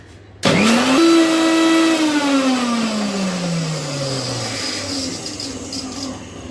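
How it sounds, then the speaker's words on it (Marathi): A kitchen mixer grinder, running a second round of coconut for coconut milk, starts abruptly and runs loud. Its motor whine rises briefly, then slowly sinks in pitch. "हे बघा मी मिक्सरला सेकंड राऊंड फिरवून घेते"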